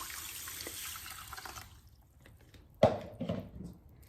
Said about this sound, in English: add 500 mils of cold water over the top